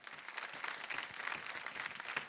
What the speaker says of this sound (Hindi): एक जोरदार तालियां हो जाएं.